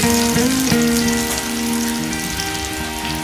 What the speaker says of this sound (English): We're now going to fry the eggplant.